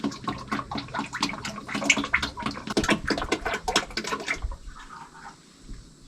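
Hydraulic fluid splashes and gurgles out of a drain port on a Case 170B excavator, a loud, busy liquid spatter that abruptly thins to a quieter trickle near the end.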